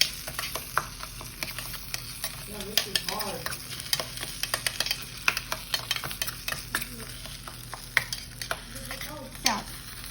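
Seasoned Mexican corn being stirred in a hot pan: a busy run of quick utensil scrapes and clacks against the metal, irregular but constant, over a low background sizzle, with no talking.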